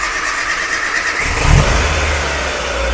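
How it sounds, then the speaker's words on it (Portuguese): A Ford EcoSport engine with newly installed fuel injectors cranks and catches, then settles into a steady running rumble, close and fairly loud. "olha o motor, sente o motor funcionando"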